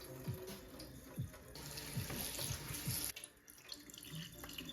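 Kitchen tap water runs steadily into a sink while raw chicken is rinsed under it, the splashing rising and falling as the meat is moved, with occasional low thuds against the basin and no talk.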